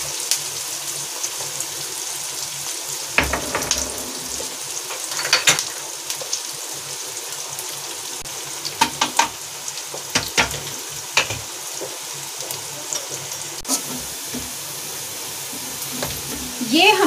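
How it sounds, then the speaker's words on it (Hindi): Onions browning in a pan for vegetable pulao give a steady, close sizzle that runs throughout, broken by scattered scraping and clattering stirring sounds. "और इन प्याज को मैं अच्छे से ब्राउन होने तक भून लूंगी।"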